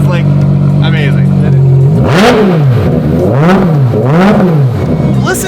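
A Ferrari Monza SP2 engine revs loudly and up close in several rising and falling sweeps, the pitch dropping low between pulls, with a person talking over it.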